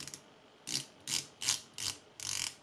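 Five distinct ratcheting bursts as the saw-toothed 120-click unidirectional bezel of a Phoibos Eagle Ray 300 diver watch is turned, crisp and close with short pauses between.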